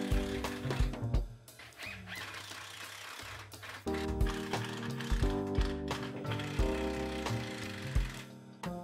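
Power driver sinking pocket screws into a wooden garden table frame that will hold a marble tile top, with several close, loud whirring bursts separated by short pauses.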